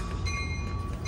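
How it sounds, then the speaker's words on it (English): Amtrak San Joaquin train 714, bound for Bakersfield, stands at Richmond station with a steady loud rumble and a high metallic whine carrying through, nearby and without talk. "Amtrak San Joaquin bound train 714 is now at the party."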